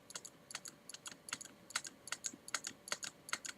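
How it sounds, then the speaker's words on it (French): Rapid keystrokes on a mechanical keyboard, crisp clacking taps in an uneven, steady typing rhythm, close and fairly quiet with no voices. "désolé pour les bruits de mon clavier mécanique"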